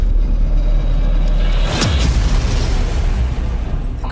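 A spaceship crash explosion in the sci-fi action game Returnal, set on an alien planet: one loud, deep boom erupts under a constant low rumble and rolls on without fading as a dense roar.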